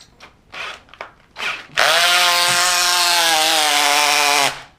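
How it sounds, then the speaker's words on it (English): A Dewalt 18V cordless drill with a slipping clutch, preceded by a few short rubbing and scraping noises, then spins up into a steady, loud motor whine lasting a few seconds before stopping abruptly. "you can see that it's clutching, and it's the clutch is slipping"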